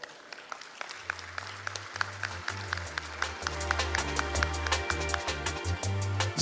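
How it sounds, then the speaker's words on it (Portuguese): A conference audience claps as a debate panel member is introduced at a traffic safety congress, the sound starting with a few scattered claps and building into steady applause with a low hum running beneath. "Uma salva de palmas."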